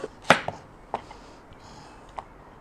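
A red onion being chopped with a knife on a board, a few sharp, separate knife strikes with one loud chop near the start and quieter taps after it, set against a faint room hum.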